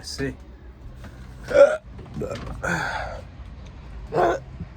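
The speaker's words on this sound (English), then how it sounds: "I got hiccups." Several sharp hiccups break out at irregular intervals, each a short catching gulp of breath, close and fairly loud, with murmured speech-like noise in between.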